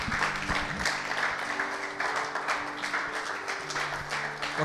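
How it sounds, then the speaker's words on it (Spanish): A church congregation at a Wednesday service claps steadily for nearly five seconds, a moderately loud, even wash of applause over a low sustained tone. "¿Por qué no le damos un aplauso al Señor?"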